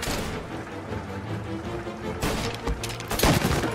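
Shotgun fire in the video game Mafia, with loud, dense bursts of gunfire and crashing booms that grow heavier toward the end.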